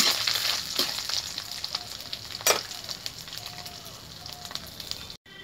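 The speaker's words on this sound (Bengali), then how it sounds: "নারকেলটা ভেজে নিচ্ছি, দেওয়ার সঙ্গে সঙ্গে ভাজা হয়ে যাচ্ছে" Coconut fries in an iron wok over a wood fire, a crackling sizzle with a couple of sharp stirring scrapes, fading toward the end before a sudden cut.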